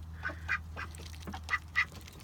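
Backyard duck quacking in a few short bursts at close range, with one louder pair of quacks near the end, over a steady low hum while the bird is hand-fed.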